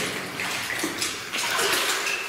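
Steady splashing and sloshing from someone wading through about two feet of water in a flooded mine tunnel heading uphill, continuous and fairly close, with no talking.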